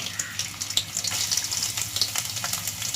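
Chopped ginger fries in a generous pour of hot coconut oil, giving a close, dense, continuous crackling sizzle with bright popping throughout.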